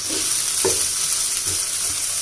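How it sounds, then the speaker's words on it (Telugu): Ivy gourd being stirred in a frying pan while cooking for chutney: a constant soft sizzle with a few light scraping stirs over it, close up and without speech. "మధ్య మధ్యలో ఇలా ఒకసారి కలుపుకుంటూ ఉండండి, లేదంటే కింద మాడిపోతుంది."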